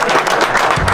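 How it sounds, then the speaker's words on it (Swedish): A brief burst of steady applause from an audience at a burger competition final, loud and close, with a few voices mixed in. "Applåder."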